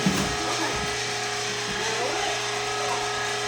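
A meat grinder runs steadily while grinding semi-frozen mountain oysters for sausage, producing a close, continuous mechanical whir with faint clicking and ratcheting textures throughout.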